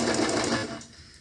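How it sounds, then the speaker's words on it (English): A sewing machine runs in a short, fast burst while backstitching along the pinned edge of a pillowcase. The close whirring chatter cuts off abruptly and fades into quiet. "I'm just going to backstitch here and then restart a new straight line on the other edge."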